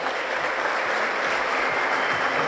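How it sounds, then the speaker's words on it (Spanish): Audience applause at the opening ceremony of an under-15 women's centenary tournament, a steady, dense wash of clapping that holds at an even level throughout. "La foto, renovamos el aplauso."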